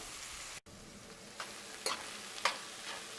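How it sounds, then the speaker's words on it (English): Eggplant sautéing in a pan makes a soft, steady sizzle with a few gentle stirring scrapes at intervals, heard alone and at low volume with one very brief dropout near the start. "we're gonna saute them about for 5 to 8 minutes"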